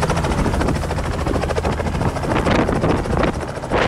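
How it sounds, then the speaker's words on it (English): Helicopter flying low over a hay field, its thudding rotor and engine roar loud and continuous throughout with no voices. "We had the helicopter come right up under him"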